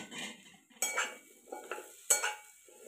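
A spatula stirs drumstick pods into a tempering thickened with chickpea flour in a pan over a wood-fired stove. Several distinct scrapes and clinks come close up at uneven intervals, with no talking.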